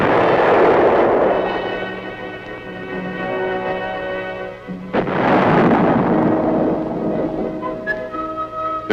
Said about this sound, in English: muzzle blast is a potential source of damage and a hazard to the crew